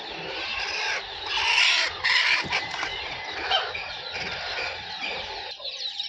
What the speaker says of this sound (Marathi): हे बघा प्युअर गावठी कोंबडे आहेत।